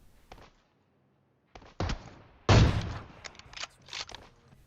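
Sniper rifle shots ring out in PUBG Mobile, a few sharp cracks and bursts spaced over a few seconds with quieter footsteps and movement between them.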